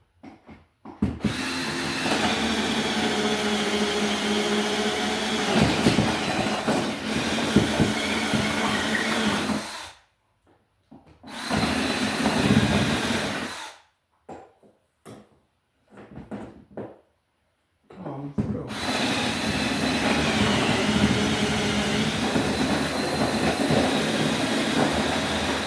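A power drill bores a hole through for a cable run in house wiring work: a loud, droning motor whine runs in long bursts, stopping and restarting several times with short silent gaps.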